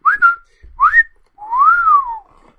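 A person whistles three clear notes close by: two short rising chirps, then a longer rising-and-falling tone.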